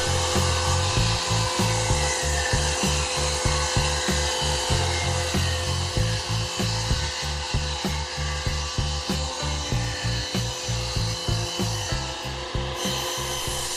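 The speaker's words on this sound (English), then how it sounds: "The first thing to be done is to cut the boards to size." Hand saw cutting reclaimed pine boards from an old stage riser, a steady run of rhythmic rasping strokes, close and loud, with no talking.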